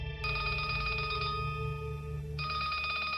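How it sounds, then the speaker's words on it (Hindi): A telephone rings loudly indoors with a steady electronic warble, cutting out briefly midway before the ringing resumes, with no voices. "घर से फोन है"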